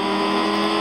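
A BMW engine in a racing video game revs steadily and loudly throughout, a continuous synthetic engine drone with no talking.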